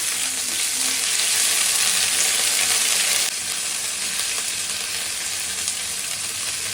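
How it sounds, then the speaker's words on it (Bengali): Ginger, garlic and mustard paste frying in oil for mango chutney, a loud, dense, continuous sizzle close by that drops slightly in level partway through, with no talk. "মশলা দিয়ে দিলাম সামান্য পরিমাণে আদা বাটা রসুন বাটা আর হচ্ছে সরিষা বাটা এখন এগুলো একটু কষিয়ে নেব"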